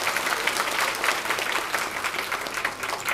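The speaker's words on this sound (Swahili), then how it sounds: "Hayo makofi kiduchu kwa mawakala." An audience at a political campaign rally applauds the campaign agents, dense continuous clapping from a crowd, fairly loud and close, with no talking.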